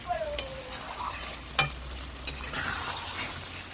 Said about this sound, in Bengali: আধ ঘন্টা কষালাম ভালো করে